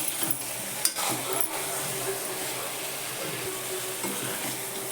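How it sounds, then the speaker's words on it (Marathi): Drumstick pods stir-fry with crushed peanuts in a pan, a continuous close sizzle broken by a sharp clink of the spatula near the start and light scraping strokes through the rest. "नंतर मग कुट घालायचं शेंगदाण्याचं चांगलं मस्त परतायचं"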